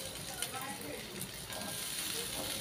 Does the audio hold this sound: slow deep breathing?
no